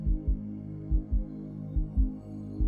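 Heartbeat sound effect accompanying a dramatic reading of The Tell-Tale Heart, low booming lub-dub pairs repeating at a steady pulse over a faint continuous hum, close and prominent with no voice over it.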